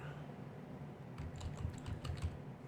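Quick light keystrokes on a computer keyboard for a Linux terminal command, beginning after a quiet second and continuing as a short, uneven burst of close, soft clicks.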